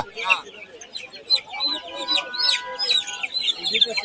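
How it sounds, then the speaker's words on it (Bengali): Tiger breed chickens clucking and chattering at a busy bird market in Tongi, several birds overlapping in quick bursts, close by, with voices murmuring faintly among them. "আপনারা দেখতে পাচ্ছেন এইগুলো হচ্ছে টাইগার মুরগি"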